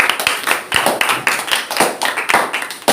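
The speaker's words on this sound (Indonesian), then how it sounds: "Oke, 90 untuk Hugeng, tepuk tangan." Brisk applause from a class, a steady patter of many hands clapping close by, lasting the whole few seconds with no talking.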